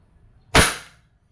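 A single sharp report from a Crosman SR 357 airgun revolver, close and loud with a quick decaying tail, fired alone with no talking.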